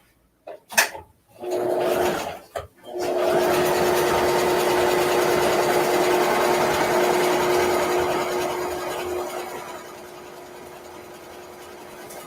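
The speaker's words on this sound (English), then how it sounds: "We're going to sew from here all the way down and from here all the way down." A sewing machine stitches the side seam of a drawstring bag, a few short starting bursts followed by a long, steady, close whirring run that eases off toward the end.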